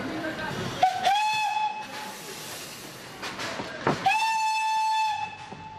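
Steam locomotive at the Wolsztyn engine shed, Poland, giving two sustained whistle blasts, each opening with a sharp burst and then holding a steady tone, over a background of hissing steam.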